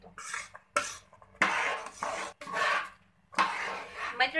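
A spoon stirs and presses sweet puran filling in a pan in irregular strokes, producing close scraping and rubbing bursts separated by short pauses.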